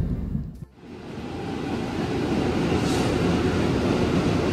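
Rumble of the Gajah Wong passenger train while riding aboard, a broad steady roar that swells after a brief dip and continues loud without speech.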